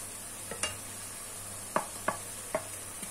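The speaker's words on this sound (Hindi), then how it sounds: "और जब तक ये नरम नहीं होते उतनी देर तक इसको मैं फ्राई करूंगी" Tomatoes with powdered spices fry in a pan under a faint sizzle, broken by a handful of sharp spoon scrapes and taps while being stirred.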